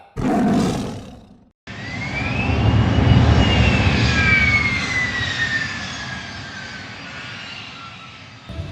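A passenger airplane's engines roar inside the cabin after a short break, rising into a loud, steady rushing drone with a high whine that slowly fades.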